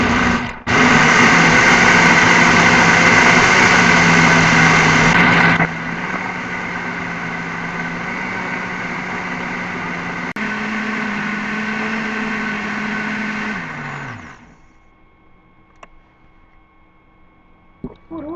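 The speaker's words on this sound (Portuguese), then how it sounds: "Tudo de uma vez no liquidificador. Isso aqui tem que bater por uns 10 minutos até triturar bem o arroz." A kitchen blender runs loud and high-pitched while grinding rice for a gluten-free, lactose-free cake batter, dropping to a lower steady whir partway through, then winding down and stopping, leaving faint clinks afterward.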